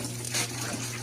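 Water runs steadily from a tap during washing, a close, continuous rush with a low hum underneath and no voices.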